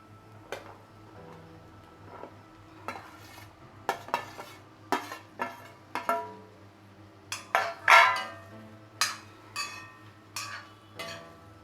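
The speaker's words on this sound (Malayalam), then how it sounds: "ഇനി നല്ലപോലെ ഒന്ന് ഇളക്കി കൊടുക്കാം." A spoon stirs an ivy gourd stir-fry with chilli powder and masala in a pan, producing scattered scraping clinks and metallic taps against the pan with a faint sizzle, irregular and close, with no talking.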